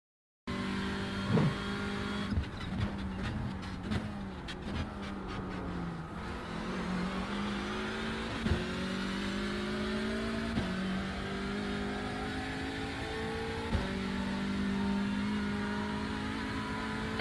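Hyundai Elantra TCR race car in iRacing at Knockhill on an out lap, its engine droning steadily and shifting pitch as it revs through gears, with brief downshift blips and faint tire noise.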